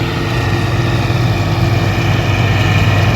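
A steady, loud engine idles continuously with a low rumbling drone and no pauses, close by.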